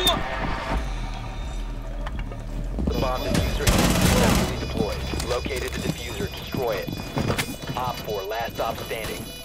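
Rapid bursts of gunfire from Rainbow Six Siege gameplay, loud and close, peaking in a dense volley midway, with voices and game announcements talking over the shots.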